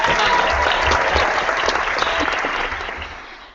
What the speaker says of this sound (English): give a warm round of applause to the lovely, and I said that twice, sorry Sheri, Miss Sheri Resnick